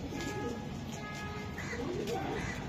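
Racing pigeons, a calm pair among club-raced birds, give soft continuous cooing nearby, a low burbling drone that runs throughout at moderate loudness.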